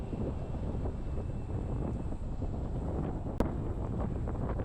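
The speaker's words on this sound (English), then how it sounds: "We're going uphill, and we've got a lot of headwind." Headwind roars across the microphone while an electric recumbent tricycle climbs a hill. The buffeting rumble is steady and fairly loud throughout, with one sharp click near the end and no voices.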